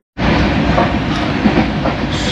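An overnight express from Kolkata to New Jalpaiguri runs at around 80 km/h, its loud steady rumble starting abruptly and rolling on with faint rhythmic wheel clatter.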